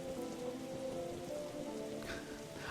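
Steady rain from the video game The Darkside Detective, a continuous even patter and hiss on a surface, moderately loud and unbroken, with no voices.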